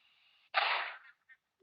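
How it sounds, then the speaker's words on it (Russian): A short explosion in the block-building survival game Survivalcraft: a sudden loud broadband burst that lasts about half a second and tails off, followed by a faint brief crackle. "Происходит взрыв, и она снимает только 2 кубика."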